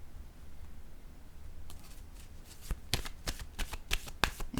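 Tarot cards are shuffled up close, starting quietly and building into a series of sharp riffles and snaps in quick succession over low background hiss.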